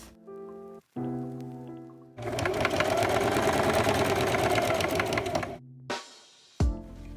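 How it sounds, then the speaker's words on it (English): A sewing machine stitches the facing on a skirt, running in one steady, loud mechanical whir for about three seconds, framed by brief quieter handling sounds and clicks before and after. "So I just finished sewing my facing"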